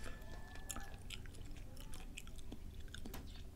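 Grilled scallop mantle being chewed, a tough and rubbery bite, with steady close-up mouth sounds and soft squelches running throughout.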